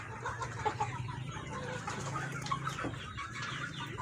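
A chicken with the respiratory condition ngorok on a poultry farm, giving short raspy clucking and rattling calls over a steady low background hum, close by.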